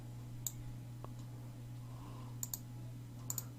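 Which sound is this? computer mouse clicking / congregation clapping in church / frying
computer mouse clicking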